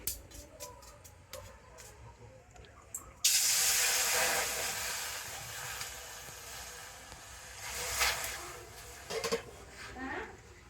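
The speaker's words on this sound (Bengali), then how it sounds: "আমি 2 বাটি জল কড়াতে দিয়ে দিচ্ছি" Water poured into a hot kadai for mango pickle, setting off a sudden loud hiss and steamy rush that swells, then gradually dies down, heard up close; some faint ticks come before it.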